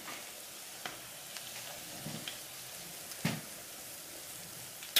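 Korean fish cakes (eomuk) fry quietly in a pan, giving a faint, steady sizzle with a few soft pops and crackles scattered through the quiet background.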